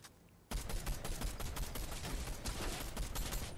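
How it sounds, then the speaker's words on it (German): Rapid gunfire in a video game, aimed at a stone, bursts in loud and dense after a brief quiet lead-in and keeps up as a sustained volley of overlapping shots with no talking. "ich schieße einfach mal auf den Stein"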